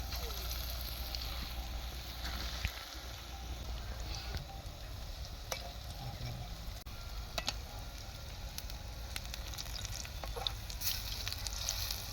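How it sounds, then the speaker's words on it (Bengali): Vegetable pakoras frying in hot oil in a kadai at an outdoor picnic make a soft, continuous sizzle with scattered faint crackles, fairly quiet throughout. "তেলটা গরম হয়ে গেছে, এবার একটা আমরা দিয়ে দেখি। হ্যাঁ, তেল গরম হয়ে গেছে।"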